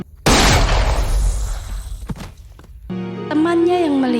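A gunshot in the Indonesian film Sang Kiai, as Japanese soldiers shoot a santri in the head: a sharp, loud blast with a long decaying roar, a second thud shortly after, then a voice crying out.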